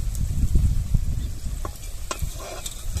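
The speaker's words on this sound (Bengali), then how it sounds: "ঝোল ফুটে উঠেছে, দিয়ে দেবো ভেজে রাখা মাছ।" Fried bhetki fish goes into a boiling poppy seed gravy, giving a soft, close sizzle and bubbling with light stirring clinks and scrapes.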